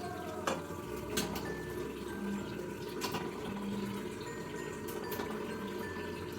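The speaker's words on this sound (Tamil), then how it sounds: "சிக்கன் வேக வைக்கிறதுக்காக தண்ணியும் சேர்க்க போகிறோம்" Water poured into a pot of chicken for biryani, a steady liquid splashing and trickling stream with a few clinks of the vessel, moderately close and without talk.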